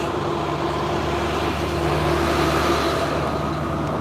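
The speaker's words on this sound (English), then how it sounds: "There's still traffic on the bridge." Vehicles cross a bridge over fast floodwater after Hurricane Florence in Fayetteville, North Carolina, a steady low rumble of road traffic blended with rushing water and no talking.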